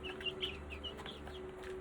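Chickens cluck softly in a series of short, quick clucks that are close but quiet over a steady background hum.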